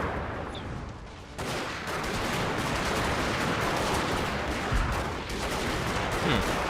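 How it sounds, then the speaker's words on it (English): Gunfire in the Fall of the Samurai video game battle, including Gatling guns: a dense, continuous crackle of rifle and machine-gun fire surging in after a quieter opening and holding loud to the end. "Apparently I'm being shot at."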